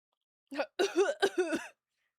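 A short burst of coughing: one cough followed by a rapid string of three or four harsh, close coughs, with silence after.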